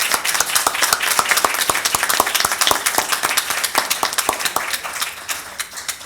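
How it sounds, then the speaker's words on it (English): Steady applause from an audience at a White House anniversary event, dense clapping that holds for several seconds before thinning slightly near the end, with no voices over it. "please join me in a round of applause for the three of them"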